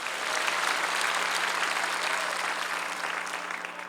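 A church congregation at a large Korean peace-unification revival service applauds together, a steady, dense wash of clapping filling the hall without pause and tapering only slightly at the end.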